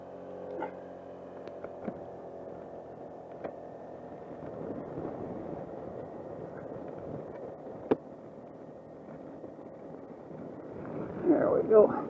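A Suzuki Burgman 200 scooter hums along a country road with steady engine drone and wind rush, with a voice talking over it throughout.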